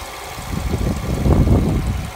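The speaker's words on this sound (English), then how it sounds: "but it's a very, very quiet engine." A quiet car engine idles steadily up close, a low, even rumble with a slight swell partway through and no voices over it.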